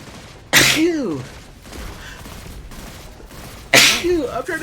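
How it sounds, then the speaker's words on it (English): A person sneezes twice, loud and close, each burst sharp and followed by a short voiced tail, about three seconds apart, with quieter background sound between them. "I'm trying to shoot. Well, sneezing."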